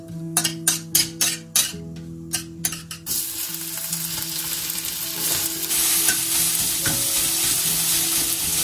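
Cardamom, cinnamon and bay leaves go into white oil and a little ghee in a kadai: several sharp clinks and stirring knocks of a utensil against the pan come first, then a steady close sizzle takes over.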